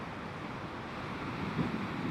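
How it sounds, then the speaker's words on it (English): Strong wind buffets an open mountain railroad site at Big Horn on the Cumbres & Toltec line, a continuous low roaring rumble with gusty swells, fairly faint overall and no talking. "It was windy, so windy that the crew had to improvise using rocks to anchor the crew's tripods to the ground."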